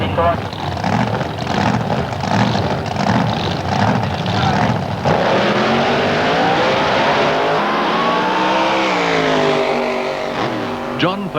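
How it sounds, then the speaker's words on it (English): Supercharged drag racing cars of the Australian Wild Bunch, 1990, roar loudly and steadily with high revs, then one engine sweeps up and down in pitch as it races past, a commentator talking over the noise throughout. "love the sight and sound of these cars with their screaming, adrenaline-pumping superchargers"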